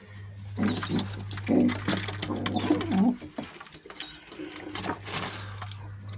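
Domestic pigeons being flown coo in low throaty bursts over a steady background hum, with several soft coos close by and a few faint chirps.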